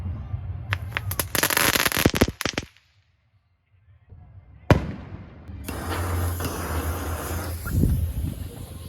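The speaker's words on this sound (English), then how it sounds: "Just crackle balls. I think one cracked open." Crackle ball fireworks bursting outdoors on New Year's: loud bursts of rapid crackling pops, then a brief lull, a sharp bang and more sustained crackling with a low rumble, with voices faintly present.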